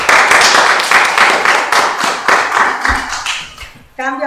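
A group claps in unison during a warm-up at a university sport welcome festival with a fencing exhibition, loud close rhythmic claps repeating evenly before a voice cuts in at the end.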